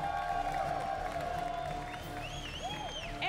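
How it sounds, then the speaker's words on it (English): Crowd at the Pokémon Video Game North American International Championships applauding and cheering, a continuous wash of clapping and whoops filling a large venue, with faint amplified sound beneath. "one more round of applause"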